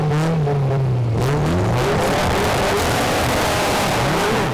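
Loud, close engines of an Audi RS3 and Evo drag cars rev hard at a drag strip start line, pitch climbing and sweeping repeatedly in a sustained roar.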